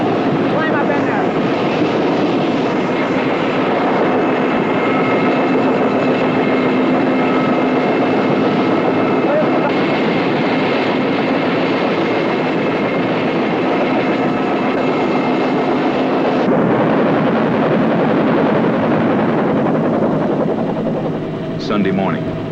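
Steady, loud rotor and engine drone of a helicopter in flight toward the mountains, continuous throughout with little change.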